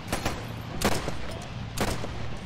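Gunfire in the Arma World War II Tunisia battle at Fondouk Gap, where sharp reports crack out at a distance in a few separate bursts over steady background battle noise.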